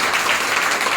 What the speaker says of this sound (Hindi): एक बार जोरदार ताली दे दीजिए